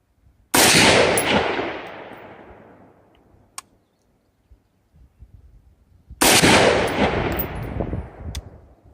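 Two sharp rifle shots fired at a target outdoors, each a loud crack followed by a long rolling echo that fades over several seconds, with a gap of quiet between them.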